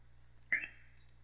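A single sharp computer mouse click, close and quiet, sounds while checkboxes are ticked in a calendar program, with a faint soft tick around it over low background hum.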